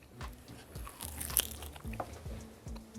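Home-smoked pork ribs being bitten into and chewed, with crunchy bites and chewing noises repeating close up over a few seconds, no talk.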